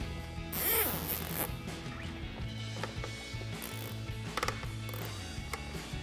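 A zip tie ratchets tight in a quick burst of zipping clicks while fastening wiring on a 2018-2020 Ford F-150 front bumper install, followed by a few sharper taps and handling knocks.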